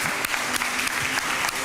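Church congregation applauding, a dense, steady wash of clapping heard close for a brief moment.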